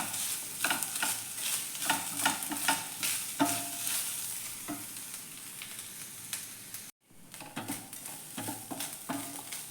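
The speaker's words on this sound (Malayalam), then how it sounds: "ഇനി നമുക്കിതൊന്ന് ഇളക്കിയെടുക്കാം. ഇത് നമുക്ക് കരിയാതെ ഒന്ന് ഫ്രൈ ചെയ്തെടുക്കാം." Potato masala stirred and fried in coconut oil, close sizzling broken by repeated spoon scrapes against the pan, with a brief dropout near the end before the frying resumes.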